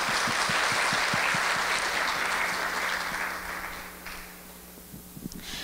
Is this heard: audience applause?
yes